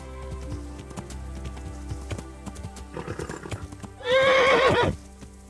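A horse in the video game Kingdom Come Deliverance clip-clops along, then gives a loud, clear whinny at the end.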